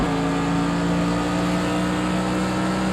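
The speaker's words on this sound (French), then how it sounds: "Elle accélère bien la voiture devant." In a Project Cars 2 VR race, a car engine drones steadily and loudly under acceleration, a constant close motor hum with no break.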